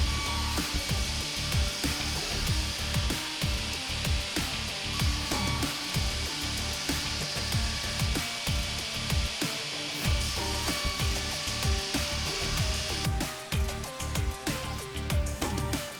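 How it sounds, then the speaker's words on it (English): An angle grinder scours scale off copper and steel billets for a forged katana-style sword in a metal shop, a continuous close whine with rasping, fluctuating bites. "he's going to grind through and get all the scale off"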